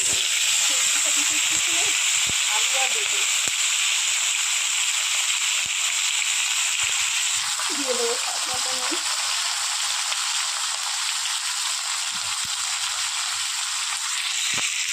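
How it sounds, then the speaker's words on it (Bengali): Vegetables frying in hot oil for a vegetarian bottle gourd greens dish, a steady close sizzle and hiss running throughout with occasional spatula stirs and scraping. "খুব ভালো করে ভেজে নিয়েছি লাল করে"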